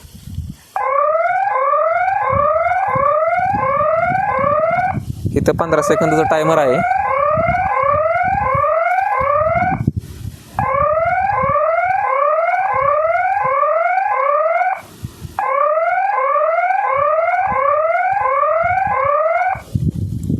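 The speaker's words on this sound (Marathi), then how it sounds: "सायरन तुम्हाला वाजून दाखवतो मी" A Trueview solar 4G farm security camera sounds a loud, continuous warbling electronic siren in repeated bursts separated by brief pauses, while someone speaks over it at one point.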